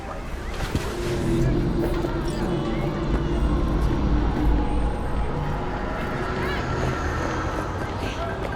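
A steady engine rumble from a factory-new car driving in Cyberpunk 2077, a low continuous drone with road noise under talking voices.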